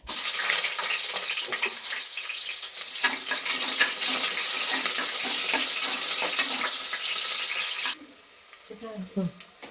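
Onions fry in oil with crackled mustard seeds and cumin, giving a loud, continuous sizzle with stirring scrapes. The sizzle cuts off sharply near the end, leaving a few softer clinks and rustles.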